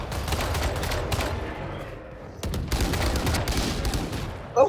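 Gunfire in a shooter video game, dense bursts of rapid shots crackling in quick succession, loud and close, with a brief lull midway before the firing resumes.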